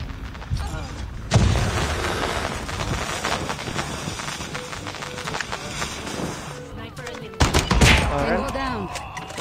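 Loud, dense shotgun gunfire and explosive booms from a Call of Duty Mobile ranked match, with heavy blasts near 1.4 and 7.5 seconds over continuous battle noise and a talking voice.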